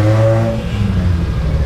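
A Yamaha Mio i 125 motorcycle fitted with a 160cc touring set revs up on a test ride, a close, loud engine drone with a rising whine that then settles into a steady hum.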